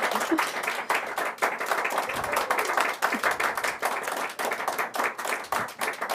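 Office staff clap together in a room during a charity's announcement, giving dense, continuous applause of many hands at moderate distance for several seconds, with no talk over it.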